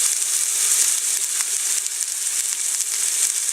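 Garlic and onion frying in olive oil in a pan while making soup, a steady bright sizzle with faint crackles running throughout, close and uninterrupted, with no talking.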